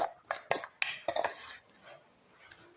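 A utensil clinks and scrapes against a bowl while ridge gourd fritter batter is mixed, seasoned with salt. Several sharp, close taps come in an uneven rhythm, then the sound goes quiet with one last faint clink.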